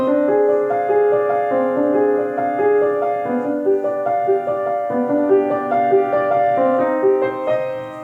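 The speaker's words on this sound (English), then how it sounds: "let's see if I could try and play it in minor." Sustained piano chords and a melody in a somber minor mood, played continuously and fairly loud with no talking.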